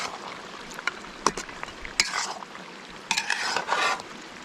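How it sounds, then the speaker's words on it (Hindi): Spoon scraping and stirring white chicken karahi in a pot, a series of short clinking, scraping strokes at moderate loudness over faint background noise, no talking. "और इस सारे को अच्छे तरीके से मिक्स कर लेते हैं।"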